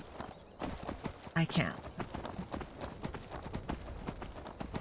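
Horse hooves clip-clop steadily in the video game Skyrim, a rhythmic trot close by while a voice speaks briefly over it.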